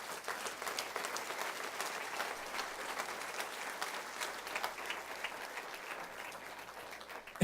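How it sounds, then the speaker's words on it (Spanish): A church congregation applauding loudly at a Spanish-language worship service, a dense sustained wash of many hands clapping together throughout, steady and fairly near, with no talking over it. "dale bien fuerte el aplauso al Señor"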